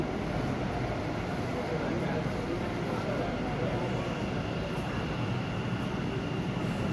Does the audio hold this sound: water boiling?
no